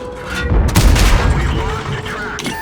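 A Tortoise tank's cannon fires standard ammo in a tank video game: a loud, booming blast with a rumbling tail and a second thud in quick succession, with game noise behind it.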